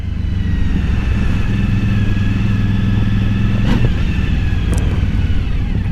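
A Harley and an Indian motorcycle ride along with a loud, steady engine drone close by, the exhaust rumble holding throughout with a brief clatter partway through.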